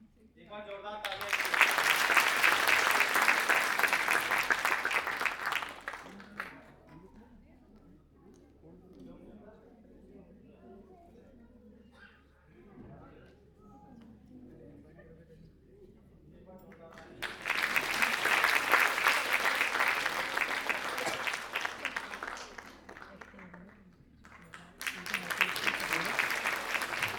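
Two bursts of strong audience applause at a Hindi award ceremony, each lasting several seconds, separated by a long stretch of quieter room sound and murmuring, with a third burst starting at the end.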